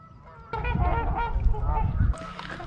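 Geese at the Kellogg Bird Sanctuary honk loudly in a burst of overlapping calls that starts suddenly and fades back to quieter background chatter from the flock.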